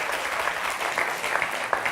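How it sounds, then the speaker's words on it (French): Studio audience on a French TV show clapping steadily, an even, close crowd applause with a few distinct individual claps standing out, no talking. "Je vous demande d'applaudir Céline Grossard."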